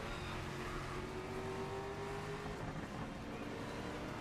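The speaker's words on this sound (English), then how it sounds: "You go through all that effort to make these V8s sound so sick" V8 race car engines in GRID Legends, a steady droning roar with a rising whine as one car accelerates, held at a constant, fairly quiet level.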